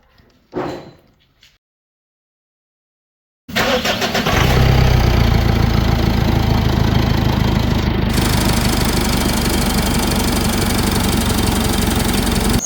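Mitsubishi Pajero engine starting after a timing belt replacement in an auto garage: a few faint knocks, a pause, then the engine cranks and catches into a loud steady idle that continues close by.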